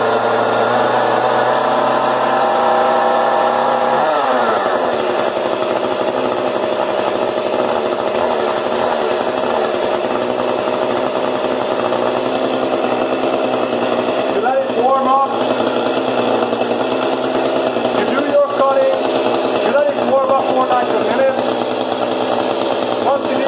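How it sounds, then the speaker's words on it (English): A petrol chainsaw runs continuously nearby, its engine droning loudly at high throttle with shifting pitch and a few surges, while a person speaks faintly beneath the noise. "you warm up your chainsaw, and then you can start doing your cutting"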